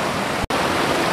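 Kiwai waterfall near Naran Kaghan gives off a steady, close, broadband rush of falling water, broken by one very brief dropout midway.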